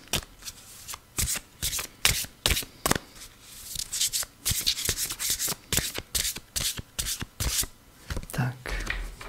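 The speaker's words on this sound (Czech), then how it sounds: "Takže já si tady zamíchám své karty jak nahoře," Tarot cards are shuffled by hand close up, giving a rapid run of crisp riffling bursts with brief pauses between them.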